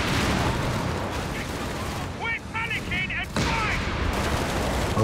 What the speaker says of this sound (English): Why is that still shooting at infantry? 37mm gun.